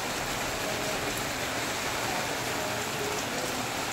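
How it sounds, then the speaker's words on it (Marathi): Afternoon rain pours steadily in a constant, even hiss, close and moderately loud, with no voices over it. "त्याच्यामुळे दुपारनंतर दररोज पाऊस चालू आहे।"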